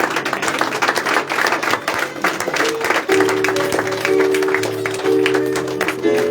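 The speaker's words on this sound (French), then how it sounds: "tu peux applaudir, ça fait du bien d'applaudir." A church congregation applauding during a sermon, steady dense clapping that fills the room, with sustained organ or keyboard chords entering partway through under it.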